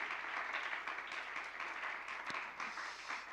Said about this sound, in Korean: 이 빌더스 집회를 소중히 여겨주시고 풍성히 꾸며주신 우리 공이공호 동기들 박수로 한번 격려하도록 하겠습니다.